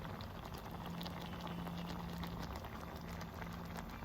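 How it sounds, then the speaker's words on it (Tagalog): Coconut milk simmering with squid in a cooking pot: a faint, steady bubbling and fizzing that holds evenly for the whole stretch, with no talking. "Ayan, kumukulo."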